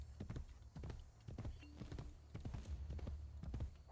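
Horse hooves gallop in Assassin's Creed Brotherhood, a quick rhythmic clip-clop of repeated thudding beats at a steady pace, faint overall, with a brief whinny-like tone in the middle.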